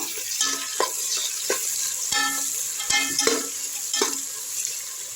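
Onions sizzle in hot oil with fried masala for chicken biryani, a continuous frying hiss punctuated by sharp scraping strokes of a spoon stirring against the pan, close up and with no talking.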